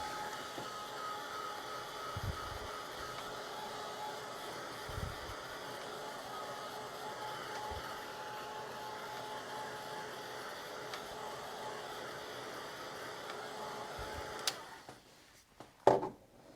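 Small handheld dryer blowing on a watercolor and acrylic painting, a faint steady whir that runs throughout, with soft knocks before it cuts off near the end.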